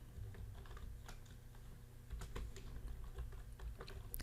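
Keys on a computer keyboard clatter in quick, uneven bursts as a project name is typed. The clicks are close but quiet over a low steady hum.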